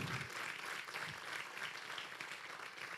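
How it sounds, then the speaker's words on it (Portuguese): A church congregation claps together during a service, a steady, faint wash of applause heard from a distance for the whole stretch. "Você pode dar uma salva de palmas a Jesus?"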